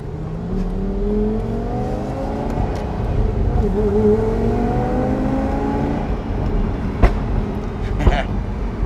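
Lamborghini Gallardo Superleggera being tuned, its engine droning steadily with rising and falling revs, then a couple of sharp exhaust pops near the end, loud and close.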